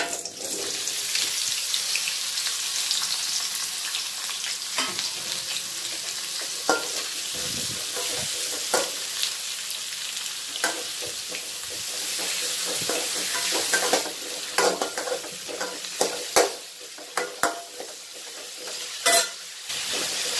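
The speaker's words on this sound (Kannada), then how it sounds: "ಇದನ್ನ ಹಾಕಿ ಹುರ್ಕೊಳೋಣ ಎಣ್ಣೆಯಲ್ಲಿ." Onion and tomato frying in oil for a bhindi gravy masala, stirred with a spoon: steady close sizzle throughout, with intermittent scraping and clatter of the utensil against the pan.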